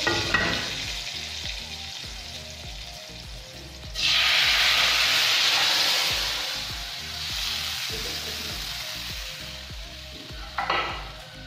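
A hot cumin tempering is poured into kadhi, bursting into a loud, sustained sizzle that slowly settles, with stirring and utensil clinks around it.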